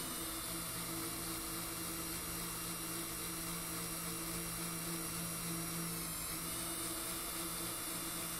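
Stanley or Makita cordless drill-driver running continuously on a high-torque setting, a steady, unbroken motor whine and hum lasting the whole stretch, close and alone.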